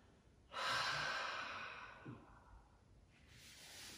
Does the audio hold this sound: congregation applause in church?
no